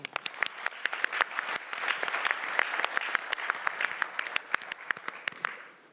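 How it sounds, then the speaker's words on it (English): An audience applauds at an annual education-technology conference debate, a steady wash of many hands clapping that swells and then fades out over several seconds, with no talking over it. "A round of applause for Martin."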